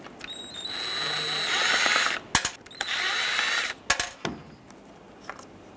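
A power driver backs out two T20 Torx bolts from the backup camera on a 2011-2018 Ram 2500 tailgate handle, with two close, loud whirring bursts, each ending in sharp clicks and clatter.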